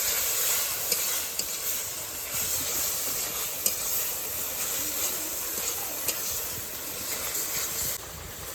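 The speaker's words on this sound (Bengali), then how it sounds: "নারকেলটা কিন্তু এখন ভালো করে ভেজে নিতে হবে" Coconut filling frying in a pan for kuli pitha, a steady dense sizzle with occasional soft scrapes of stirring, close and continuous with no voices.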